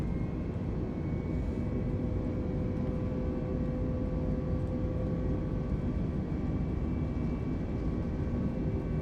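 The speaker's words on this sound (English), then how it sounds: "I'm gonna go ahead and apply toga. Takeoff roll." Simulated airliner engines at full TOGA takeoff thrust during the takeoff roll in Microsoft Flight Simulator, a steady loud low roar with faint tonal whine, constant throughout with no talk.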